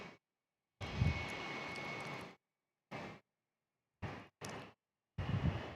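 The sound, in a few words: JetBlue airliner flying, aircraft engine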